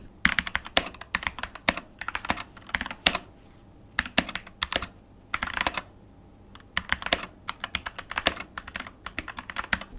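Close, steady mechanical keyboard typing with clicky keystrokes in rapid bursts and brief gaps between them, no voices, typed on a Keychron keyboard with its default switches.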